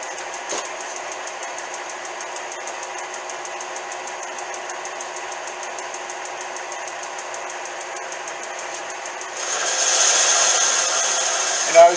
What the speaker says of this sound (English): It's an inflator. It's meant to like inflate rubber rafts and beds, but I use it as a blow around the shop instead of a compressor running.